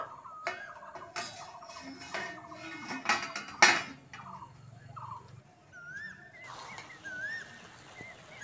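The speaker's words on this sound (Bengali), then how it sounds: "এবার ঢাকা খুলে দেখে নেব" A lid comes off a pot of rice simmering for a home-cooked biryani, with a few faint metallic clinks and a brief clatter. Light chirping carries on in the background.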